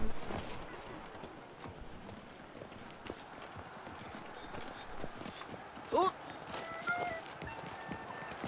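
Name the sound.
horse hooves clip-clopping, The Witcher 3 video game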